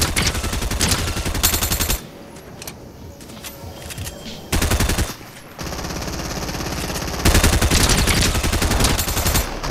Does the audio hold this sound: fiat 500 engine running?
no